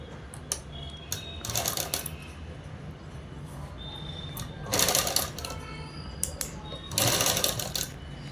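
Sewing machine stitching a French cut dress, heard in three loud bursts of rapid mechanical stitching separated by quieter pauses with light handling clicks.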